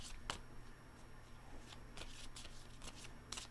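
Tarot cards are shuffled in quick riffling bursts, close and soft, with a few sharp flicks against a quiet background.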